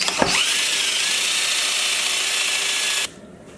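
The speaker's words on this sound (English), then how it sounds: "we're going to go ahead and drill out this rivet here" A power drill whirs steadily at high speed for about three seconds, close and loud, drilling out a rivet on a Can-Am door handle, then cuts off abruptly.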